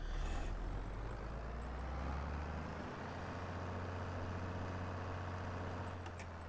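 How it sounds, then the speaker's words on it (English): A tractor engine in Farming Simulator 22 drones steadily at close range, a low rumbling note that drops in pitch partway through as it shifts, with no talk over it. "Decent sounds to the tractors"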